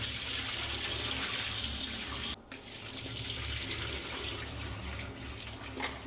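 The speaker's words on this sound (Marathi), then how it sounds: "2 पाण्यात स्वच्छ धुवून ह्याला घ्यायचं आहे।" Tap water runs steadily into a sink while an ingredient for homemade herbal shampoo is rinsed in a sieve, with a brief pause in the flow partway through.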